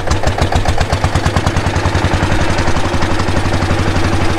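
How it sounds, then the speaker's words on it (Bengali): A small motorboat on a river trip through the Sundarbans mangroves starts up and runs, its engine chugging in a steady loud low-pitched rhythm close by, with no voices over it. "তো এখন এই বোট চালু হয়ে গেল আর এখন যাচ্ছি সজনেখালি।"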